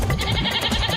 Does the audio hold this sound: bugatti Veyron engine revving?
no